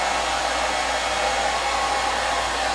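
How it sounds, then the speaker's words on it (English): Hair dryer running on low speed while drying curled hair, a steady continuous whooshing blow with no pauses, close and fairly loud. "just using a low speed on the blow dryer keeps it from taking any of the curl out"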